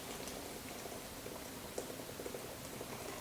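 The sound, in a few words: boiling water poured into a pot for coffee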